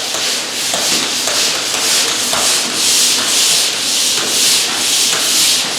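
Hand sanding scrapes over drywall compound on a wall in a steady, loud back-and-forth rhythm of close rasping strokes, with no voices.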